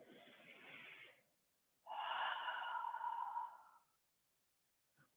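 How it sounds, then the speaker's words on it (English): Close, audible breathing during a slow mobility exercise: one long airy exhale, a pause, then a louder, fuller breath lasting about two seconds, ending with a faint short sniff. "Breathe."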